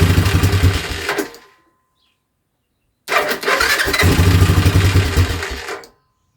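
A faulty motorcycle engine failing to hold idle, running roughly for about a second before cutting out into silence, then firing up again and sputtering unevenly for several seconds before dying once more, loud and close.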